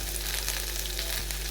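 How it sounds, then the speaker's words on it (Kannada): Ginger and onion frying in coconut oil for a chicken keema gravy, a dense close sizzle that holds steady throughout, with a low background hum and no voices. "ಇವಾಗ ಇದಕ್ಕೆ ಸ್ವಲ್ಪ ತೆಂಗಿನ ಎಣ್ಣೆ ಹಾಕಿ ಇವಾಗ ಫ್ರೈ ಮಾಡ್ಕೊಳ್ಳುವ"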